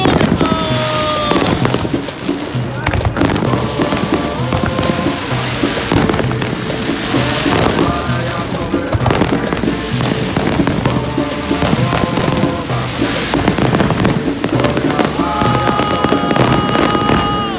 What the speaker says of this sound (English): I'm gonna go show you the fireworks